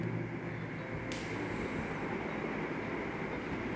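A remote-controlled fan at medium speed blows a loud, steady rushing roar, a dense whoosh of airflow that holds constant throughout with no voices.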